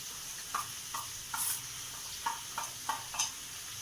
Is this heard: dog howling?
no